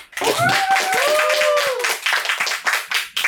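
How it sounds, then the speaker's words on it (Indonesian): A group claps hands together in a studio for a student organisation's talk show, a dense burst of applause-like clapping that carries over a sliding whistle-like tone, then thins into scattered claps. "Tepuk tangan dulu, tepuk tangan."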